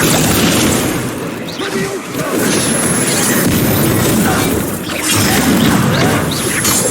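A Bombarda blasting spell in the video game Hogwarts Legacy, loud booming explosions with crashing debris filling the whole stretch, a brief dip between blasts, with a voice speaking in the mix.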